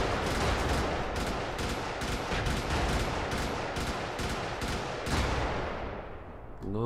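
Rapid bursts of space cannon gunfire from the video game Brigador, a dense, loud stream of repeated shots with a steady rhythm that cuts off near the end.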